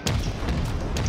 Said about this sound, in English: That's the first enemy salvo of the game